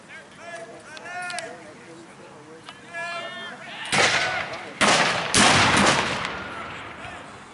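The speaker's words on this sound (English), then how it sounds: "that artillery will be able to continue firing while the British are advancing" Musket volleys and artillery fire at a 1775 battle reenactment, the Battle of Great Bridge, with loud booming blasts and crackling shots in the second half after someone talks over a noisy outdoor crowd.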